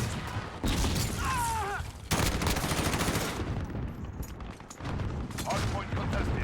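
Bursts of automatic gunfire crackle in the Call of Duty Blackout video game, loud repeated volleys separated by brief pauses, with a voice talking over the action.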